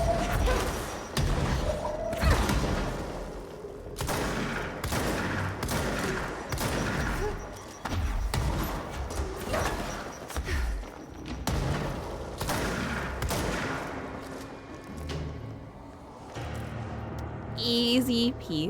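Grenade explosions and sustained gunfire in the video game Control, dense rattling shots and heavy thumps and booms running nearly without pause, with a voice talking over the combat at times.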